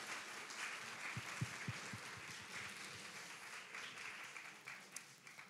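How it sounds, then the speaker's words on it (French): An audience at an evening eloquence contest final applauds as a jury member is introduced, with sustained, fairly faint crowd clapping and a few louder individual claps near the start, steady to the end. "je vous prie de faire un tonnerre d'applaudissements pour Monsieur Rizzuto"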